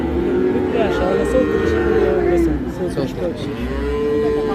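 Crossbred calves moo at Hazratpur cattle market, a few drawn-out calls rising over a constant crowd murmur and nearby talk.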